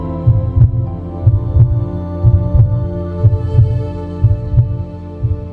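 Steady heartbeat, loud and close, with soft paired thumps repeating about once a second over a low continuous hum.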